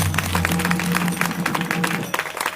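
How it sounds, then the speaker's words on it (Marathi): An audience claps for a family at a devotional kirtan gathering in Alandi, with dense, steady applause from a crowd close by, continuing evenly throughout and no talk over it. "त्या कुटुंबासाठी सर्वांनी टाळ्या वाजवा."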